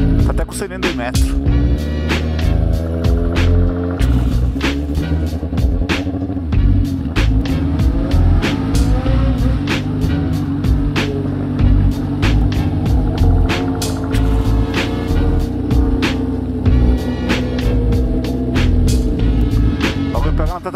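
A lowered Celta hatchback races on a track with a loud, continuous engine roar, its revving pitch sweeping up and down through repeated shifts, with snapping pops and a brief voice or two under the noise.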